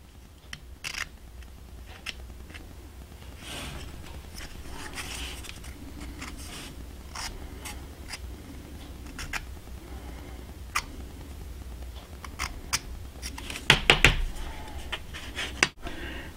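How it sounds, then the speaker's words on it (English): The back of an X-Acto blade scraping a model railroad brick wall, a faint, dry scratching texture dotted with small ticks and clicks, growing busier toward the end. "The back side of the X-Acto blade works the best for this."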